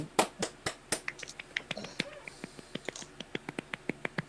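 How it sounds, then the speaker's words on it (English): A few people clap softly and sparsely, a quiet, scattered patter of light hand claps that slows toward a steady slow beat. "Golf clap."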